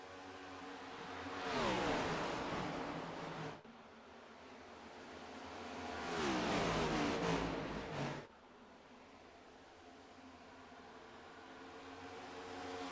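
Stock race cars roaring down the back straightaway, two loud sweeping passes that swell and fade with a rushing, doppler-like pitch drop, over a low steady background rumble.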